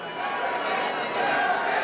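A boxing arena crowd roars during a heavyweight fight, a continuous dense cheer that swells slightly toward the end.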